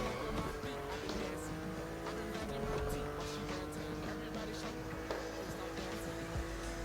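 Car drifting in The Crew Motorfest racing game, with a steady engine roar and tire squeal running continuously and loud throughout, no talk heard.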